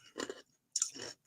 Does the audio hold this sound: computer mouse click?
no